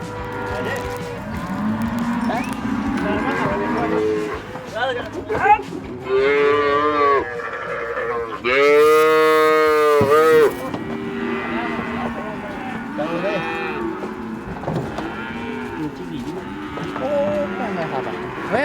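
Cattle mooing loudly and repeatedly, long drawn-out bellows from several animals close by, amid background commotion and occasional voices, as gauchos in Argentina handle the cattle roughly.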